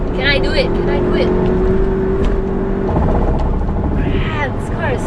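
A 2019 Volkswagen Passat 2.0 TSI Highline accelerates hard while overtaking on a road, its engine rising in pitch under steady road and wind noise as a person talks over it.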